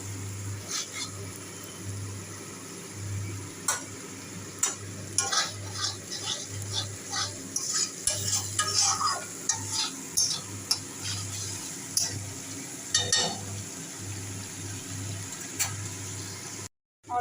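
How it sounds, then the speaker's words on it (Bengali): Spice paste with a little added water is stirred and fried in a pan for a Bengali catla fish dish. A spoon scrapes and clinks steadily over a low sizzle, close and quiet, with no speech. "অল্প জল দিয়েছি দিয়ে আবার ভালো করে কষাচ্ছি"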